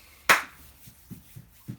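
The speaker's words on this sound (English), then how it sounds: "That was a loud clap." A single loud, sharp hand clap rings out near the start, followed by a few soft, low thumps and knocks in a quiet room.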